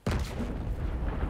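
A deep explosion booms in Sniper Elite 5 on the Atlantic Wall, a sudden loud blast whose heavy low rumble sustains and rolls on for over a second.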